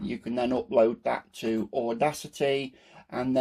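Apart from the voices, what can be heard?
No everyday noises stand out.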